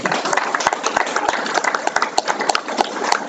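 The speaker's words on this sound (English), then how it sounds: "Let's give you a round of applause" Attendees at a Baldwin City USD 348 school board meeting give a round of applause, many hands clapping in a fast, crackling patter with sharper individual claps standing out nearby.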